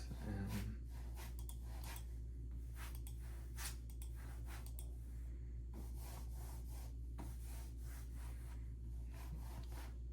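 A hand rubs back and forth across the surface of a soft cloth gaming mouse pad, producing faint, close, soft swishing strokes in an irregular rhythm over a low steady hum.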